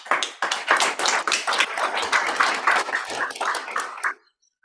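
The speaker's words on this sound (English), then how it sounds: "Can we give him a round of applause?" A round of applause from the audience at a book launch, dense clapping that holds for about four seconds and then stops abruptly.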